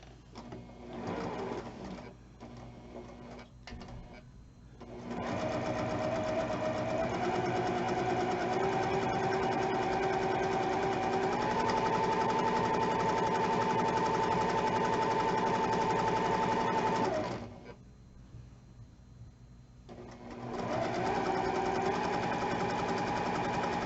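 A sewing machine top stitching down a fabric strap runs in a steady, loud mechanical whir, with a brief pause and stop-start at the beginning and a gap near the end before it resumes, no talking.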